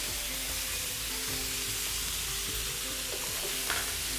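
Big chunks of onion sizzle steadily in a pan of hot oil, a continuous, even frying hiss heard up close, with a faint utensil scrape near the end.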